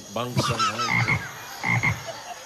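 A throaty frog croak, likely imitated by a human voice during a lively Filipino TV variety show segment, comes as several rough, pulsing calls over faint background noise.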